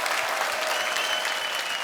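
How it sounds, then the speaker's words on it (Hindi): The studio audience of The Kapil Sharma Show claps loudly and steadily in a continuous burst of applause, with no talking over it. "इन सबके लिए एक बार जोरदार तालियां बजाएं"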